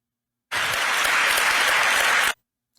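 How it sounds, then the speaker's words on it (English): A crowd breaks into a short, dense burst of applause lasting under two seconds, starting and stopping abruptly. "Yes, round of applause."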